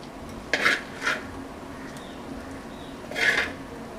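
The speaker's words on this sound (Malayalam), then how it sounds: "ഇനി നമുക്കിതൊരു പാത്രത്തിലേക്ക് മാറ്റാം" Cooked Kerala prawn roast is moved from a pan into a dish, giving a few separate scraping clinks of a utensil on cookware, fairly close, with quiet gaps between them.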